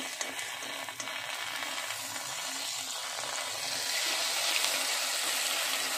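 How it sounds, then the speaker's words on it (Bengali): Snack pieces fry slowly in oil for evening treats, giving a steady, close sizzle with faint crackling that swells slightly toward the end, with no talking. "এটা আস্তে আস্তে ফ্রাই হোক।"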